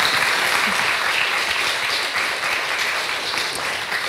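Studio audience at a French television talk show breaks into continuous, thick applause. Many hands clap at an even loudness for the full four seconds, with no talk over it.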